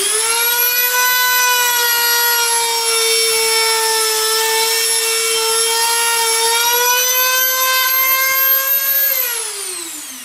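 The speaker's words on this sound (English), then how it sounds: "So now I'm going to turn on my Dremel, and I go at the top speed, high speed, and then just cut all the way till it stops right here" A Dremel rotary tool running at top speed while cutting jump rings, a loud, piercing, steady high-pitched whine that holds for several seconds, then winds down in pitch as the blade slows, with no talking.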